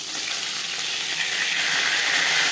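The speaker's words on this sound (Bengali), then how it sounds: "মাছ ভাজা হয়ে গেছে" Silver carp frying in hot oil in a large wok, a steady dense sizzle that holds close and loud throughout with no voices over it.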